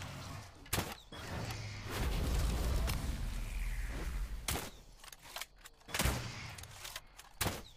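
Sharp gunshots crack in a German roleplay video game, several single reports spaced a second or two apart against a rumbling, noisy background, fairly close and loud.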